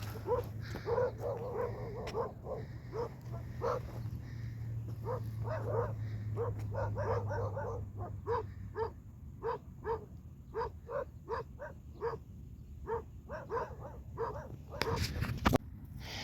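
Several dogs bark repeatedly in a saxaul forest beside a highway, sharp yips and woofs at middle distance in irregular bursts over a steady low hum, with a few clacks near the end.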